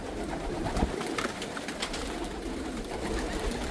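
Homing and meat pigeons coo in a large loft, their soft, repeated throaty calls layered over a dense, steady background of many birds close by.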